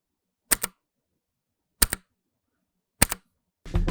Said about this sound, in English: Cherry Blue switches have a very distinct click about halfway down the keystroke.